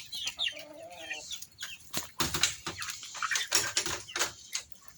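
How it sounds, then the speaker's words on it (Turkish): Rooster clucks and bursts of flapping wings sound close by, busy and irregular, with scratchy rustling throughout. "Ha şu horoz bak."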